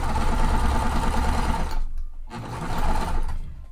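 A sewing machine runs in fast, steady bursts while it stitches the layers of a puff quilt pillow. The rapid mechanical whirring is loud and close, with a short pause midway before it starts again.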